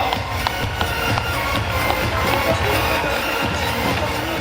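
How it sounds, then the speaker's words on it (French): A crowd applauding steadily at a Salers cattle show at the Sommet de l'Elevage 2019, dense clapping that holds at an even level for the whole stretch, with faint murmurs mixed in. "on l'applaudit bien fort"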